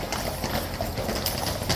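Brisk clip-clop of King's Guard horses' hooves on pavement, quick overlapping strikes from several horses passing close by, with light background murmur.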